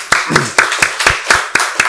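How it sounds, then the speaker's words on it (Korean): A church congregation at a Sunday worship service claps together in a steady, evenly spaced rhythm, with about eight sharp, loud claps over two seconds in a reverberant hall. "박수로 하나님께 영광 돌리겠습니다."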